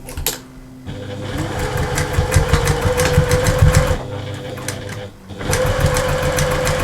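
Sewing machine stitching fur fabric for a toy bear's ear, its motor whirring in steady close bursts with a short pause in the middle and small clicks around the stops.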